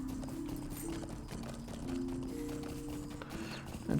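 Horse hooves clip-clopping at a steady trot in the online game LOTRO, a continuous rhythmic beat of hoof strikes over game music and ambient sound.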